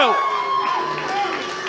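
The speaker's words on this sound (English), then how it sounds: "And you hear this crowd is starting to turn." A wrestling crowd cheers and shouts during a Matthew Justice versus Nick Gage match, a brief burst of massed voices with a commentator talking over it.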